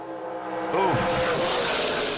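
A race vehicle launches hard off the start line at a drag-racing event, its engine roaring loud and close as it picks up speed, with a steady broad rumble and rising whine.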